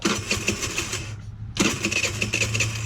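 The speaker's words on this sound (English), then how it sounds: "All right, let me try to start it back up." A GY6 scooter engine with a damaged carburetor idle speed screw fires up after a brief quiet gap, then runs with a steady, rough mid-pitched idle close to the microphone.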